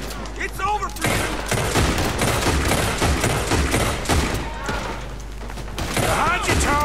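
Rapid gunfire in a Red Dead Redemption 2 shootout during a robbery, dense overlapping shots and booms filling the whole stretch, with a voice speaking over the barrage.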